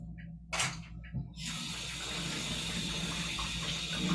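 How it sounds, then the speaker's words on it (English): Water runs from a tap into a sink for hand washing in a home kitchen, starting with a few knocks and then settling into a steady close rush with no talk. "I have to wash my hands."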